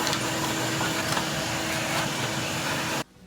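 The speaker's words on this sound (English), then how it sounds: "I'm going to take a minute to vacuum it all out while it's apart." A vacuum cleaner sucking brake dust and dirt out of the rear disc brakes of a 1993-97 Toyota 80-Series Land Cruiser, a loud steady whining roar close by that cuts off abruptly near the end.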